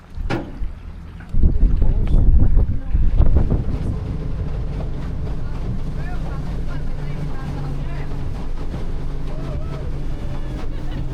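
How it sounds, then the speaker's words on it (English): A boat engine hums steadily in the distance under wind noise at the end of the Milford Track, New Zealand, with a few louder rumbles and knocks near the start. "There's the boat."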